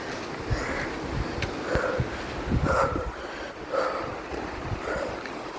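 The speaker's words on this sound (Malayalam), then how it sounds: "അയ്യോ അമ്മ സൂപ്പർ കാറ്റ്." Strong wind at a mountain temple buffets and rumbles across the microphone in gusts, with a broad roaring noise and no speech.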